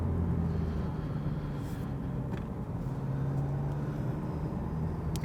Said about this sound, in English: it's not a cool sporty sound, it's rather the diesel engine